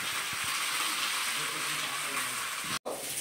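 Fish frying in an oilless multimaker dosa pan gives a steady, close hiss of sizzling that fills the clip and breaks off for a moment near the end.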